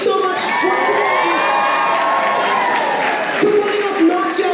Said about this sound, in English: Big round of applause to front of house, back of house, all of our tech team